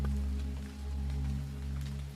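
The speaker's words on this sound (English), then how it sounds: "Even now, the sound of the rain is growing faint." Steady rain falls in a soft, even wash with a low constant hum beneath it, without talk.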